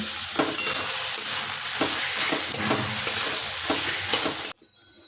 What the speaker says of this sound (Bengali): এখন পেঁয়াজটা ব্রাউন কালার করে ভেজে নিতে হবে